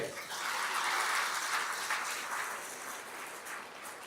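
A seated audience at a religious discourse applauds steadily, a dense wash of clapping that holds for several seconds and slowly eases, moderately distant and fairly soft, with no talk over it.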